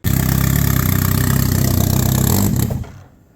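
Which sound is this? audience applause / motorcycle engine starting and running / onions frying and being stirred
motorcycle engine starting and running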